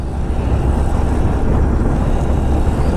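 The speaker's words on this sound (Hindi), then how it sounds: "अब इंजन थोड़ा फूंक दूंगा मैं" A Bajaj Platina 100 cc motorcycle engine revs hard climbing a steep mountain road in Ladakh, a loud, dense, continuous roar with wind rush and no talking.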